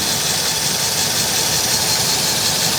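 A repaired car engine, previously misfiring and hard to start, idles steadily and evenly up close, a dense continuous mechanical hum with no voices.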